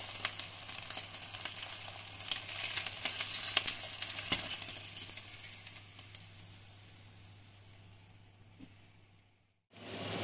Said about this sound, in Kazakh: қызып тұрған майымызға салып, екі бетін кезек-кезек қуырып аламыз